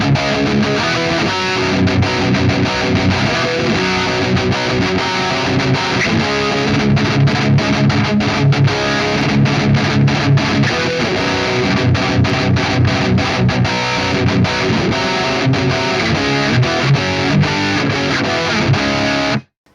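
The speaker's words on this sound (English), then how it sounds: "Let's go old school with our screamer type pedal, and it's set up just how I like it with the level up and the overdrive at about 9 o'clock" Distorted rock electric guitar played through a JCM800-inspired amp sim with a screamer-style overdrive pedal, with the overdrive low and the level up. Loud, continuous chugging and ringing chords run steadily for about twenty seconds before cutting off abruptly.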